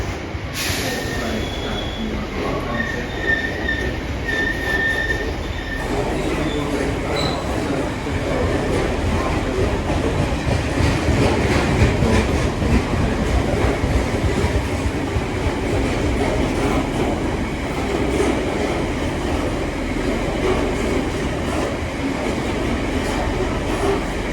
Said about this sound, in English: it literally came in as I got off that Oxford train.